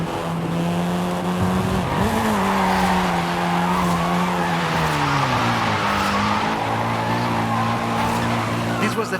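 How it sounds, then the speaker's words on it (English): A seventh-generation Volkswagen Golf R driving in Forza Horizon 5: a loud, steady engine drone that climbs and falls in pitch through gear changes, with tire squeal and skidding mixed in. "This version is the Volkswagen Golf R"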